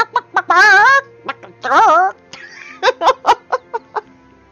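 A human voice imitates a chicken for a character in the Chapters interactive story game, with drawn-out warbling squawks followed by a string of short clucking bursts, loud and close with no other sound.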